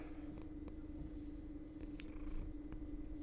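A pet cat rubs her face against a microphone pop filter, making a close, steady low rumble with purring and scattered soft scrapes and brushing ticks, with no talking.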